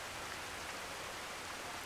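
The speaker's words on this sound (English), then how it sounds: "Look, it's raining." Steady rain falling in the video game Skyrim, a faint even hiss of drops with no variation and no voices.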